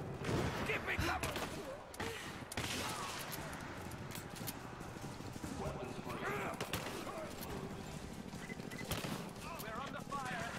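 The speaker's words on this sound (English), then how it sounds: "We're under fire at the edge of the village." Gunfire in the video game Rise of the Tomb Raider at the edge of a village, with repeated shots and bursts of fire that start and stop over about ten seconds, mixed with crashes and people talking.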